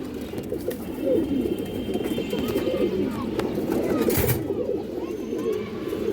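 Pigeons kept in a cage coo and rustle close by in a steady low murmur that continues throughout, with a brief sharp clatter partway through.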